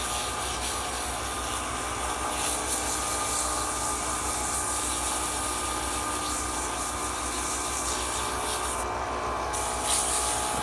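Sanding by hand with 320 grit sandpaper on a custom wooden box, a continuous close scratchy rubbing that holds steady and dense for the whole stretch.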